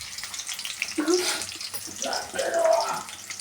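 Chopped white onion tipped into a hot pan while cooking garlic rice gives a brief hissing sizzle, with a voice talking over and around it.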